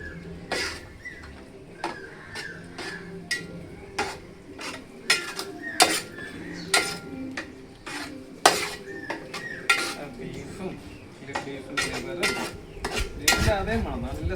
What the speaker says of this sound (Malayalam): നമ്മൾ നല്ല ഇളക്കി ഇതൊന്ന് വറ്റിച്ചെടുക്കണം.